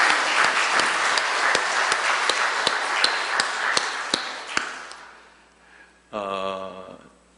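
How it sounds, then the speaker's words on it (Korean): A church congregation claps for visiting presbytery members, a round of applause with crisp, evenly spaced nearby claps that fades out after about five seconds, followed by a brief sustained tonal sound. "우리 큰 박수로 한번 격려하겠습니다"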